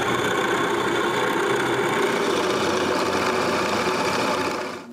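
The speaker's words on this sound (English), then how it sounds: "Drill some holes for the drums." A power drill bores holes into a wooden nutcracker figure to hold its drums, giving a steady, loud, close whirring hum for about five seconds that cuts off abruptly at the end.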